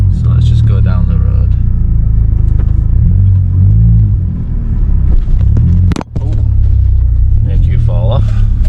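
An Audi TT pulls away and drives down a road, its engine rumble and road noise steady and loud from inside the cabin, with people talking over it and a brief sharp dropout midway.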